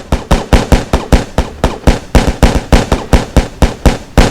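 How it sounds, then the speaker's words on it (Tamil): Fireworks going off in a video game, a steady run of loud, sharp cracking bangs evenly spaced about four per second, close and unbroken. "ஓகே மக்களே, வெடிச்சு முடிச்சிருச்சு."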